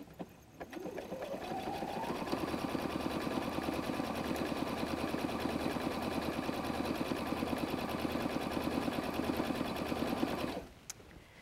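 Sewing machine set to triple zigzag stitch at 0.9 length and 5.0 width, stitching the edge of a messenger bag; it spins up within a second, then runs in a steady, close, rhythmic mechanical chatter before stopping near the end.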